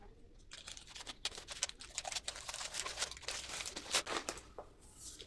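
Plastic packaging around a set of six earrings bought from Meesho crinkles and tears as it is opened by hand, soft close rustling with a few sharper rips, fairly quiet and without speech.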